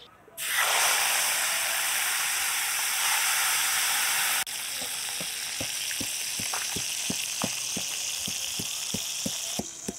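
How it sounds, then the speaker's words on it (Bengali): Koi fish dropped into very hot mustard oil in a wok give a sudden loud, steady frying hiss that continues throughout, with a series of faint rhythmic taps from a spatula in the later half. "এদিকে কড়াইয়ের তেলটাও টনটনে গরম হয়ে গেছে, এবার মাছগুলো ভাজবো।"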